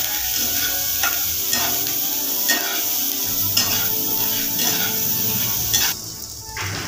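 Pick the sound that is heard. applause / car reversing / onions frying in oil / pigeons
onions frying in oil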